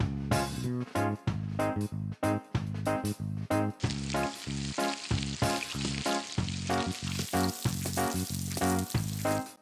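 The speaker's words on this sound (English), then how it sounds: "To fry the tomatoes." Tomatoes fry in hot oil in the Toca Kitchen cooking game, a loud close sizzle broken into repeated short bursts with brief gaps, then turning denser and brighter halfway through.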